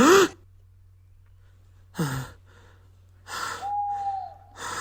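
Edward the steam engine gasps and pants in short, breathy bursts after waking with a jolt, three or four separate heavy breaths spaced apart with quiet gaps, close and fairly loud over a low steady hum.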